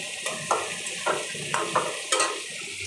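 Green chillies and spices fry in a pan with a soft, continuous sizzle, punctuated by about five distinct stirring scrapes spaced roughly half a second apart, fairly quiet and with no talking.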